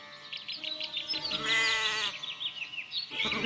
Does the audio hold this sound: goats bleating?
yes